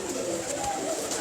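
Pigeons cooing close by in a soft, continuous low murmur with a faint hiss of background noise.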